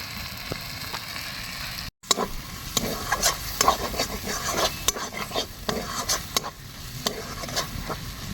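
Spice masala with chopped tomato, dried red chilli paste and turmeric sizzles in a pan while being stirred, with repeated scraping strokes of the spatula over a steady frying hiss and a brief pause early on.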